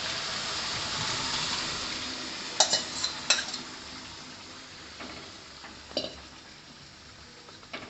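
A soaked vagharelo rotlo mixture, a Kathiyawadi dish, sizzles as it is stirred in a pan. A soft frying hiss carries throughout, broken by a few sharp clinks of the spoon against the pan.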